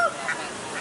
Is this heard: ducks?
yes